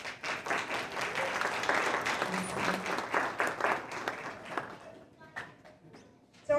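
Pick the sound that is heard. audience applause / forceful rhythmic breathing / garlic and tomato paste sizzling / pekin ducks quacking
audience applause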